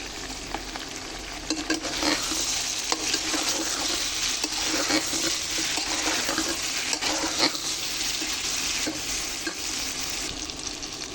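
Ginger, garlic, turmeric, salt and chili powder sizzle steadily in hot oil for a river pangas fish and ash gourd curry, with a continuous close frying hiss and occasional stirring scrapes; no one speaks.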